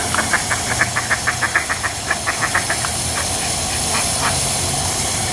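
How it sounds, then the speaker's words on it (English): Ducks at the Cleveland Zoo quack in a quick run of about a dozen short calls over steady outdoor background noise, then a few scattered quacks follow. "There's the duckies."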